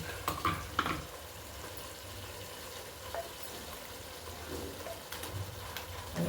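Fish frying in a pan for sambar as freshly ground masala goes in, a steady close sizzle with several sharp clatters and stirring scrapes at the start and end.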